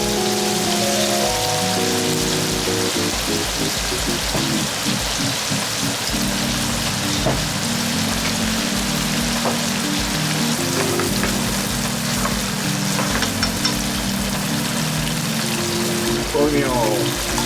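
White wine hits a hot pan of sausage for spaghettini and sizzles in a steady, dense crackling hiss that lasts throughout. A voice speaks over the frying at the start.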